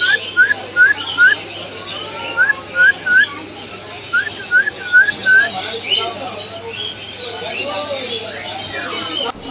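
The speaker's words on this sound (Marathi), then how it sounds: "तुम्हाला इथे हळूहळू पक्ष्यांचा आवाज पण येत असेल" Caged birds at Crawford Market, Mumbai, give repeated short chirps and whistles in quick bursts, several calling close by over a busy background of people talking.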